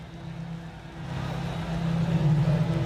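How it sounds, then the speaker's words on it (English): Small turbocharged touring car engines in a racing video game, idling and starting to rev on the grid before the start, a steady low drone that grows louder toward the end, with faint talk underneath. "We'll hear these little turbocharged motors start to squeal, ready to be unleashed into 20 minutes of racing."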